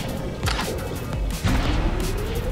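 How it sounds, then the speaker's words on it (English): Grenade launcher and plasma grenades firing in the shooter game Choke Point, a run of dense booming blasts and bursts landing close together over a steady noisy battle bed, with a rising whine trailing the last hit. "There's a great combo with the grenade launcher and the plasma grenades."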